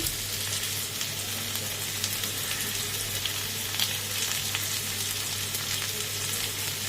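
Cumin seeds and a bay leaf fry in hot oil for a Bengali mukhi kochu curry, a steady, close, even sizzle with faint crackles and no talk.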